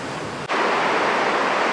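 Glacier waterfall near Lauterbrunnen, Switzerland: a continuous loud roar of falling water, briefly dipping just before half a second and then swelling to a full, steady rush.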